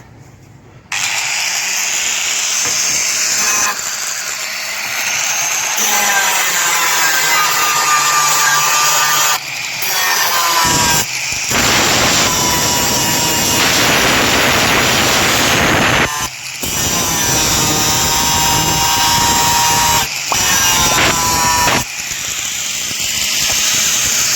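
Angle grinder running on iron, a loud, sustained high-pitched whine with harsh grinding noise, close up and continuous for most of the span, with brief dips where pressure on the metal changes.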